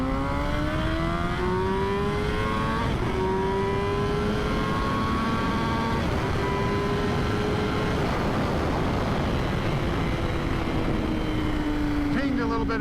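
A Yamaha R1 motorcycle accelerates hard through three gears to around 138, its engine note climbing in pitch, dropping sharply at each shift, then climbing again under heavy wind roar.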